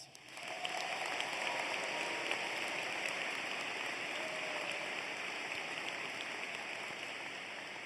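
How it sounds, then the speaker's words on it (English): Sustained applause from a large convocation audience honoring student leaders, a dense even wash of clapping that holds steady throughout with no talk over it. "Please give this phenomenal team a round of applause."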